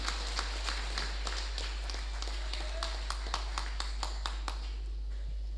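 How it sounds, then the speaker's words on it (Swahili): Scattered clapping at an ACT political campaign rally in Majid Hall, with sparse individual claps at a steady, uneven pace over a continuous low hum, fairly faint and without talk. "tumpigeni makofi mengi mno sana"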